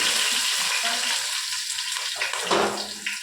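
Shallots and fenugreek sizzle in hot oil in a pan, a bright steady crackle with occasional stirring scrapes and clinks, recorded up close.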